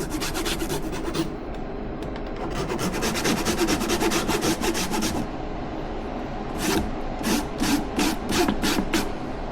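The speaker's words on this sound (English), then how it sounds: "grater a good amount of ginger. alongside that garlic." Fresh ginger rubbed against a kitchen grater alongside garlic, a steady series of close, loud rasping strokes in quick rhythm, pausing briefly midway before several slower, distinct scrapes resume.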